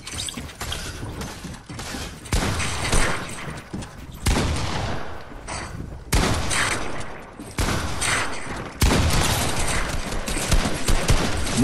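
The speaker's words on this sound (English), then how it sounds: "that shotgun shot getting fucking stupid" Fortnite shotgun fire and other gunshots in the game, heavy loud blasts separated by short gaps, each with a sharp onset and a sustained tail, close and dominant throughout.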